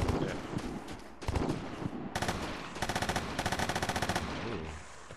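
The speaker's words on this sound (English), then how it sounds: "You're taking fire." Rapid automatic gunfire from the video game Vigor crackles in repeated bursts, with a sustained stretch of fast regular shots near the end and brief pauses between volleys.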